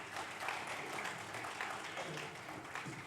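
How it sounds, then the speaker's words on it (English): Faint, distant applause from an award ceremony audience in Bhubaneswar, a soft continuous wash of clapping with murmuring voices blended in. "Please give him a round of applause there"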